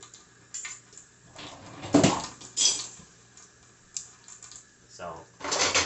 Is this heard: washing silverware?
yes